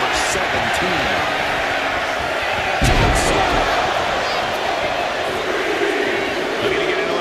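Dense arena crowd roar from a WWE 2K25 Royal Rumble match, a steady wall of cheering and chanting with a brief louder swell midway, continuous throughout.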